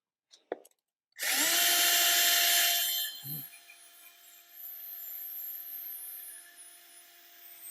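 Power drill fitted with a larger bit, working on a 8th-generation Honda Civic Si, spinning up loudly after a couple of brief clicks, holding a steady whine for a couple of seconds, then easing to a lower, continuing run.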